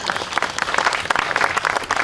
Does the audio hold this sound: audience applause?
yes